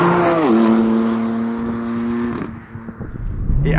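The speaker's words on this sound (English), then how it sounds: "this is literally just the stock exhaust system, but with aftermarket decat downpipes" BMW M4 with roughly 550 bhp running its stock exhaust and aftermarket decat downpipes, heard as a loud, close engine tone that rises, settles into a steady drone, then trails off with crackles.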